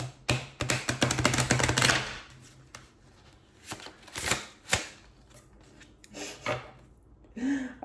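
Quick riffling bursts of cards being shuffled, close by, in several short runs with pauses between, no talking.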